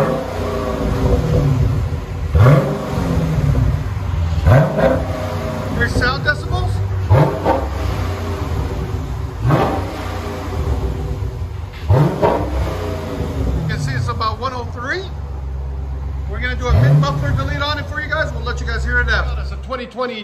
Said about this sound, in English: 2016 Dodge Challenger Shaker 392 Scat Pack. This is what it sounds like before.